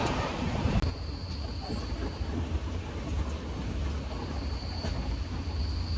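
Inside a moving passenger train, a steady low rumble of wheels on track runs throughout, with a sharp clank near the start and a faint high whine.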